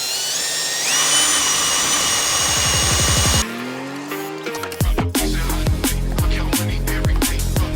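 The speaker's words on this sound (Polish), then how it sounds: "Więc nic prostszego niż wkrętarka. Rozwiercamy, tam nie trzeba się za bardzo cackać z tym." A cordless drill-driver drills out screws on a BMW F30 door handle, with a long steady whine that rises in pitch, then a series of short revving bursts and stops up close.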